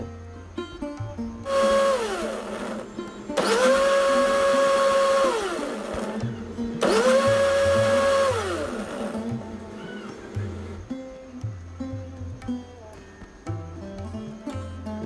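A kitchen blender grinds grapes and mint with water and lemon juice for sharbat, three loud whirring bursts that ramp up and wind down, separated by short pauses and followed by quieter clinks.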